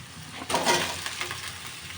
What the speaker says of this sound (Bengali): আলু পেঁয়াজ একসাথে ভেজে নেব